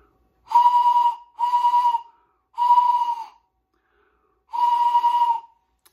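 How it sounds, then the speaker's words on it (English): A souvenir train whistle from Skagway, Alaska sounds four sustained, clear blasts, each about half a second to a second long, with short gaps and one longer pause before the last, loud and close. "I also got this really cool train whistle in Skagway."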